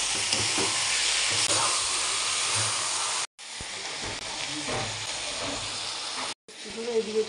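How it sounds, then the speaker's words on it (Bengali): Onions fry in a wok with a loud, steady hiss of sizzling oil close by, broken by two brief cuts. "কড়াইয়ে পেঁয়াজগুলো ভেজে লাল লাল করে নিই"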